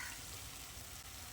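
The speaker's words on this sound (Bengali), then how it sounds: "এর মধ্যে ভাজা আলুটা দিয়ে দিচ্ছি" Fried potatoes drop into a pan of cooked mung dal for a vegetarian banana-flower curry, giving a steady, fairly faint sizzle and frying hiss that runs without a break through the whole short moment, with no voices.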